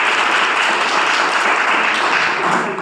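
Sustained applause from a large audience, dense and steady throughout at a constant loudness, with no pauses or distinct voices rising above the clapping.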